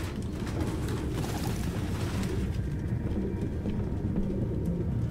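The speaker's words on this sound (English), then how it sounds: "No human could live with all these fucking pigeons." Pigeons coo in the video game Detroit: Become Human, a crowded flock producing a dense, continuous low murmur of cooing and rustling under a steady ambient wash, with no talking.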